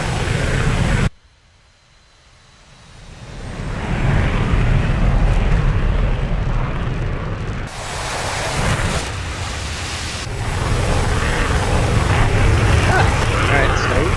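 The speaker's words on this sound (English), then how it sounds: "Another jet made it in the air." A fighter jet takes off in an F/A-18C flight simulator, a loud sustained roar of engine and rushing air that rises after a brief quiet gap and holds steady to the end.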